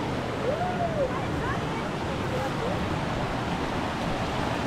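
A small spring-fed stream flows along a hiking trail near Bushkill Falls, giving a steady broadband wash of water that runs throughout with a few faint bird chirps above it.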